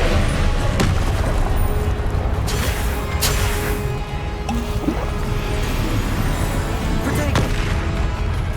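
Confringo blasting-spell explosions in the Hogwarts Legacy video game, a run of sharp booming blasts at irregular intervals over a dense, busy combat din, with no talk.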